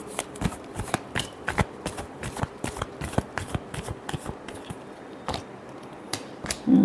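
Tarot cards being shuffled by hand: a close series of quick, crisp riffles and slaps in an uneven rhythm, with no talking.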